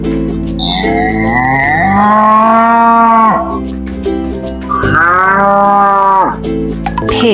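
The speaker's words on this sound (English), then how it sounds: "Cow." A cow moos twice in long, drawn-out, loud calls close by, the second following a brief pause, over a steady background music bed.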